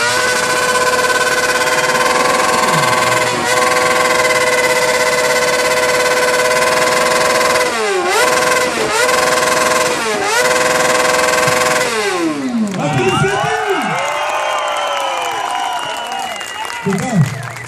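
A black Suzuki motorcycle engine, entered in a loudest-motorcycle contest, runs loudly up close and is revved repeatedly. Its rising and falling whine surges several times, then it settles and rumbles under crowd noise.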